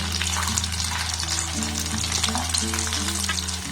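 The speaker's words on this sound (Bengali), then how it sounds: "এইভাবে উল্টে পাল্টে এগুলোকে আমি লাল লাল করে ভেজে নেব" Potato pieces and flattened rice frying and being turned in a pan give a steady, close sizzle with clinks of stirring, continuous and fairly loud throughout.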